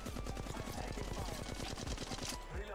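Rapid automatic gunfire from the mobile shooter game Apex Legends Mobile, a dense rattling burst of shots that runs loud and steady for nearly three seconds with a few heavier impacts near the end.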